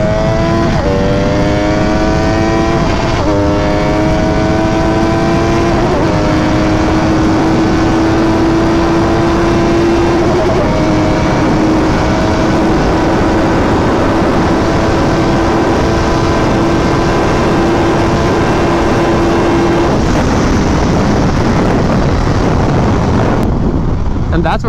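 An MV Agusta F3 RR motorcycle engine accelerates at speed, its pitch climbing through several gear changes with a loud, steady high-revving whine over heavy wind rush, then easing off near the end.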